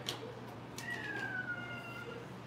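Luna, a pet cat indoors, gives one drawn-out, falling meow at close range, alone in a quiet room.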